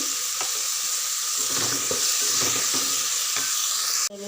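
A pan of flat bean and tomato curry with turmeric simmers and sizzles steadily up close, with faint stirring scrapes, before cutting off abruptly near the end.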